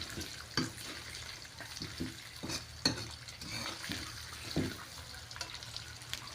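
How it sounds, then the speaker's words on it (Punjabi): Carrots, radish and green chillies roasting in a kadai for pickle, with soft sizzling broken by repeated scraping stirs of a spatula against the pan. "ਆਪਾਂ ਜੀ ਗਾਜਰਾਂ ਨੂੰ ਉਨੀ ਦੇਰ ਤੱਕ ਭੁੰਨਾਂਗੇ"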